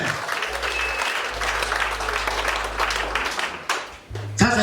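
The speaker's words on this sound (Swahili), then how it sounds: "Piga yeye makofi tena." Congregation applause at a church service, a dense steady wash of clapping that swells and carries through nearly five seconds with a low hum beneath, briefly dipping before a final loud burst.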